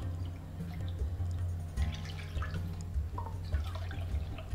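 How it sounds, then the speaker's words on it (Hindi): Two cups of water are poured into a kadhai (wok) to boil gatte for Marwari gatte ki sabzi, a soft, continuous trickle and splash heard faintly over a loud low kitchen hum. "कढ़ाई रे मायने दो कप पानी डाल दूँ"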